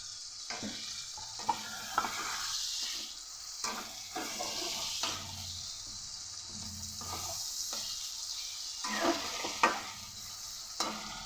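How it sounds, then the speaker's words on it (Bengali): Chopped tomato tipped into half-fried onions in a pan for a chicken curry, a soft continuous sizzle broken by repeated stirring scrapes and clinks, close and fairly quiet. "পেঁয়াজটা অর্ধেক ভাজা ভাজা হয়ে গেছে এর মধ্যেই দিয়ে দেবো কুচিয়ে রাখা টমেটো"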